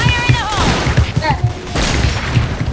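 Rapid gunfire from a Rambo-style weapon in the shooter game Point Blank, with dense, overlapping bursts running throughout while voices talk over it.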